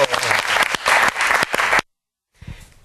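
Studio audience applause welcomes two classical singers to a survival-format stage on a television talk show; a dense, steady burst of clapping runs close and loud for nearly two seconds, then cuts off, with a faint murmur after.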